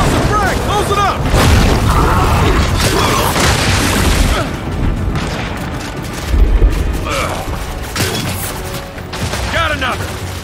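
Frag grenade blasts and heavy gunfire in the Gears 5 video game, a dense, continuous barrage of booms and mechanical clatter with voices shouting over the chaos.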